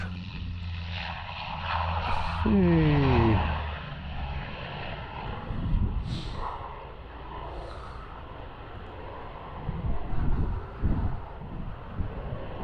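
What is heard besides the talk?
airplane flying overhead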